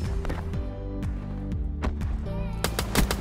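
Gunfire in a shooter video game, comparing the M8 and M14 rifles: a rapid series of sharp, loud shots in uneven bursts, close and dominant, with faint game sounds in between.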